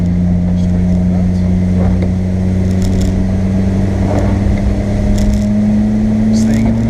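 A car drives the Nurburgring Nordschleife in the rain, with a steady, loud engine hum and droning tone heard from inside the cabin, along with wet road noise. Someone narrates over it.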